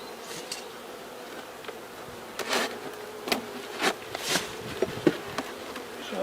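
Honeybees buzzing around an open hive as it is readied for winter, with a steady close hum and several louder passes of individual bees sweeping near and away, alone without talk.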